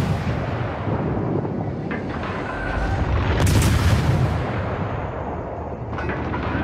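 Naval guns boom during a World of Warships battle, deep rumbling blasts swelling midway with a sharp crack among them over continuous low game noise.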